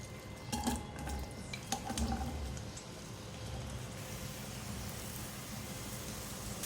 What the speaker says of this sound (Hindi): 1/4 कप ऑयल डालूंगी कढ़ाई में। 2 बड़ी प्याज है, इनको मैंने स्लाइस में कट कर लिया है, ये डालूंगी।